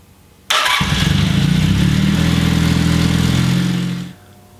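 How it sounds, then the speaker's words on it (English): A carbureted motorcycle engine cranks and fires up abruptly, then settles into a loud, steady close-up idle for several seconds before the recording fades out. "Now I'm going to go through the startup process in real time."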